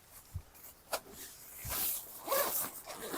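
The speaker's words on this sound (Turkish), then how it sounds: "iç çadırın cibinlik kısmında şu şekilde köşelerde iki tane fermuar var." A zipper slides along the corner of a tent's inner mosquito-net panel, a few short rasping pulls close by, separated by brief pauses and light fabric rustling.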